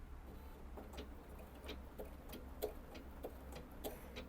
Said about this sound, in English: This is the first stitch that I'm taking on our 790 Pro machine.